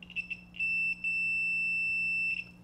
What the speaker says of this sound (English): It'll beep when there's an electrical connection between two conductors